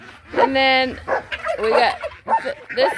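A dog barks in a short burst of high, yappy barks, close by, while a person talks over and between the barks.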